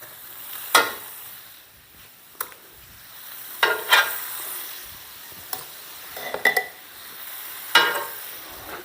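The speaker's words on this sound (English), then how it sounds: "Now I'm going to add my meat to this." Seasoned beef sizzles in a hot pan with a low steady frying hiss, broken by sharp clinks and scrapes of a utensil stirring and tossing the meat at irregular intervals.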